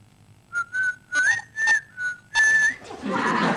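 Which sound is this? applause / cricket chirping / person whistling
person whistling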